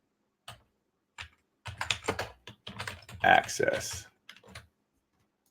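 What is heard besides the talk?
typing on a computer keyboard, adding subtext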